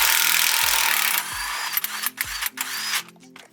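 Hand tools work loose the bolts on a 4x4's Panhard bar, with the rapid clicking of a ratchet and the scrape and clank of metal parts, fairly close and loud, with no talking.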